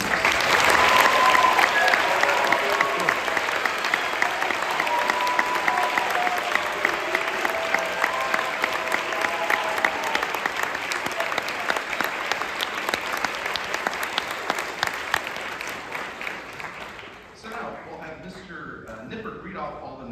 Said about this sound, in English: One big round of applause for our seniors.